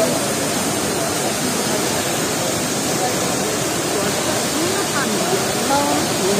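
Cold water plunging from high above in a waterfall at a Mussoorie bathing spot, a steady, loud broadband rush that fills the whole clip, with faint voices mixed into the roar.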